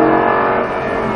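A Lamborghini Gallardo pulls hard out of a corner on a racetrack, a loud, close engine roar that holds strong, then drops off slightly as the burst ends.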